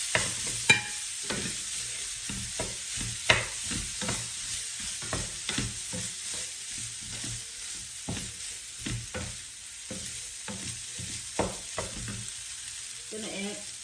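White rice being stir-fried with hot chili sauce in a pan, steady sizzling broken by repeated scraping strokes of a utensil, close and moderately loud with no talking.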